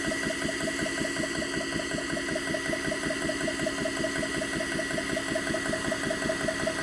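A JTS airgun compressor runs steadily while building pressure, giving off a constant mechanical drone with a fast, even pulsing rhythm and a steady tone on top, close and continuous with no voices.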